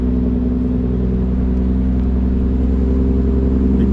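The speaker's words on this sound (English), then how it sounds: "Big truck going past." A big truck rolls along a country road near the Turon River in Sofala, its heavy engine a loud, steady low drone that holds for the whole stretch with no voices.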